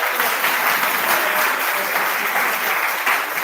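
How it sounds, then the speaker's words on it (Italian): Dense, steady applause from a school audience in a classroom or hall, welcoming the first question at a talk on the heliocentric versus geocentric models, filling the space loudly and evenly throughout without pause. "Un applauso per la prima domanda."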